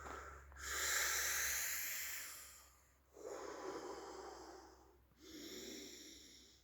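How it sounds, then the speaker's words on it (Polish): Three deep, slow breaths during an outdoor kung fu exercise session, each a long, close, breathy rush of air separated by brief pauses, with no talking. "Głębokie wdechy, parę razy, tak trzy razy."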